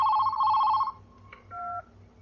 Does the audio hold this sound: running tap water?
no